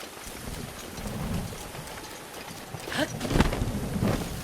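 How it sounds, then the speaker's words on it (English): Steady rain in The Legend of Zelda: Breath of the Wild pours as a continuous hiss, with louder splashing bursts and low rumbles toward the end and no talking. "you would think that it would be a lot more flooded here with how much it's been raining"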